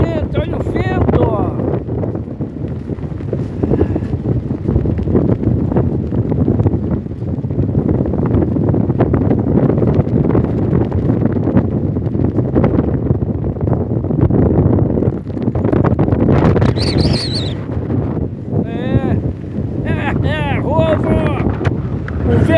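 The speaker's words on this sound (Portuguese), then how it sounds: "olha o vento que tá aqui" Strong wind roars and buffets the microphone on a beach at Laguna during a hard northeasterly, a loud continuous rumble with someone talking over it throughout.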